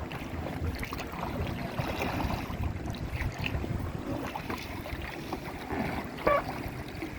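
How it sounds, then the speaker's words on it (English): A small rowboat is rowed out along the sea coast, giving soft repeated water swishes and splashes from the oars under steady wind noise, fairly close and moderate in level. "It's not as hard as you think it is rowing these things"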